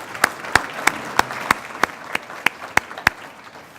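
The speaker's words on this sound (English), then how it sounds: "Let's give them a round of applause for joining us." Sharp claps land at a steady, even beat at a leadership talk event, standing out over a constant murmur of background noise.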